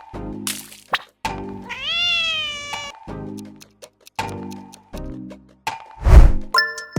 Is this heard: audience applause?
no